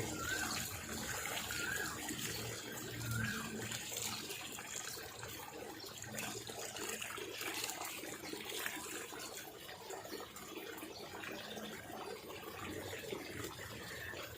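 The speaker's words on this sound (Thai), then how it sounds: "แล้วก็ทำการลดน้ำให้ชุ่มเลย" A cabbage base planted in soil is watered thoroughly, giving a steady, fairly faint wash of pouring and trickling water that runs on without a break, with a few faint chirps in the background.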